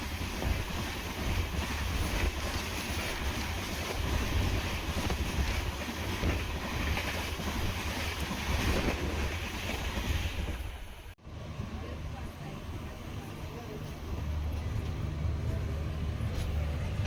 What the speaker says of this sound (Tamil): Train number 16104 Rameswaram to Tambaram express. இந்த ட்ரெயின் தாங்க ஆப்போசிட்டில் வந்துட்டுருக்கு.